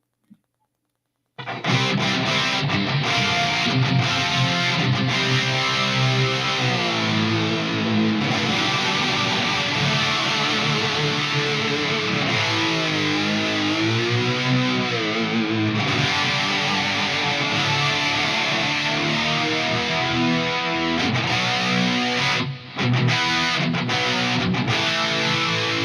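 Electric guitar played through distortion and echo effects, a sustained, heavily driven tone with bends and pitch dives, loud and continuous after a brief silent start.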